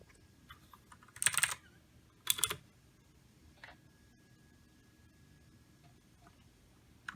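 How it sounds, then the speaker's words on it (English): Typing on an E-Element Z-88 104-key mechanical keyboard comes as two brief clattering bursts of keystrokes, then a few isolated clicks in a quiet room. "we can do a sound test with typing and OS."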